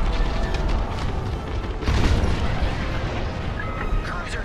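A capital-ship cruiser blows apart in Star Wars Squadrons, a dense rolling boom swelling around the two-second mark over constant space-battle rumble and scattered weapon fire, loud and sustained throughout.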